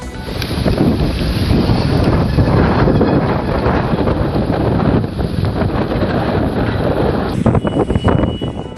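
Strong cyclonic wind at Vadalur, Tamil Nadu, roars and buffets the microphone in a loud, continuous rush with gusty surges throughout.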